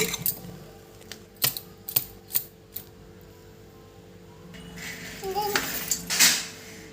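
Foxtail millet idli batter stirred in a bowl: sharp utensil clicks and taps against the bowl in an irregular run, then a softer, thicker sloshing scrape, close up without talk.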